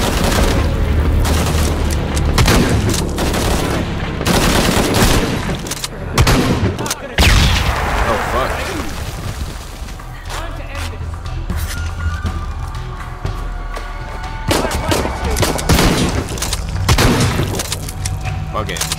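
Shotgun fire in the video game Shadow of the Tomb Raider: heavy booming blasts recur over about twenty seconds amid bursts of other gunfire, explosions and in-game voices.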